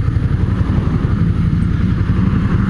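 Several motorcycle engines idle and rumble together at close range, a steady, loud low throb with clattery texture running continuously without talk, heard during a solo touring trip through Kameoka in the Kinki region.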